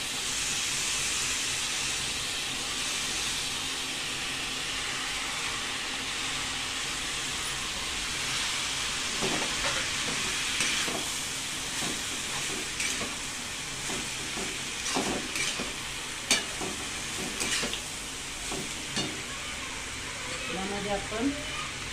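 Cooked rice tossed into a hot pan for stir-fried rice, giving a steady loud hiss and sizzle throughout, with scraping stirring strokes and clatter growing more frequent in the second half.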